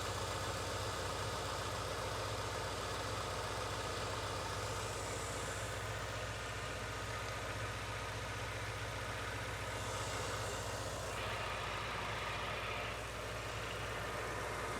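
A Subaru Impreza GC8 under head gasket repair idles steadily, a constant low engine drone with a broadband whir and faint fluctuations, heard alone and unbroken throughout.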